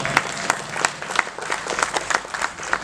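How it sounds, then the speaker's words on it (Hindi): An audience at a live musical night show applauds with steady, energetic clapping throughout, a lively crowd sound without a break. "खुद के लिए जोरदार तालियां बजाएं।"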